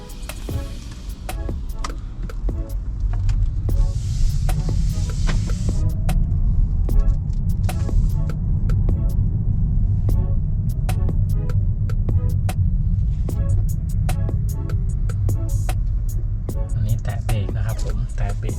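Steady low road rumble inside an MG EP electric car as it drives along at an even pace, filling the cabin with a continuous hum and a few faint ticks.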